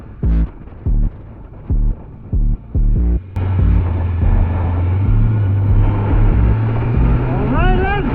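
A motorcycle riding on the highway in chilly winter weather, with a steady droning engine and rushing wind noise growing loud after a few short bursts at the start, and a rider talking over it.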